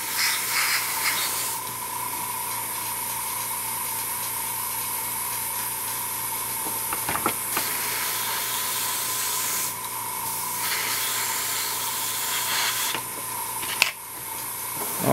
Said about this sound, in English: This is a double action airbrush, so I can back off the trigger a little bit to prevent that from happening.